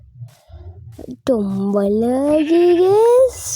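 Sheep bleating in the video game Minecraft: after a faint quiet start, one long, loud, wavering bleat runs for about two seconds, close and alone.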